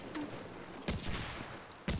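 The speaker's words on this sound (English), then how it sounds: "25mm cannon fire, which is on this corner" Rapid bursts of 25mm cannon fire in the Combat Mission Shock Force 2 war game, three sharp reports spaced about a second apart, loud and close with a dense rumbling battlefield din between them.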